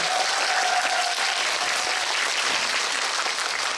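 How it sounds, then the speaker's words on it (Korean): A large cinema audience applauds a film director at a movie talk event, a loud, steady wash of clapping that holds at full strength throughout. "박수 부탁드립니다."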